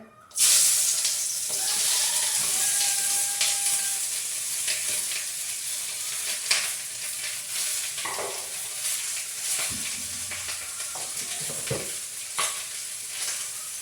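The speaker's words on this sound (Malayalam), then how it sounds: "അപ്പോൾ വെളിച്ചെണ്ണ ഒന്ന് ചൂടായി അത് കഴിഞ്ഞ് നമ്മൾ കട്ട് ചെയ്ത് വെച്ചിട്ടുള്ള ഉള്ളി ഇട്ട് കൊടുക്കുകയാണ്" Chopped onions hit hot coconut oil with a loud, steady sizzle and hiss, broken by occasional scrapes and stirring clatters in the pan, no voices.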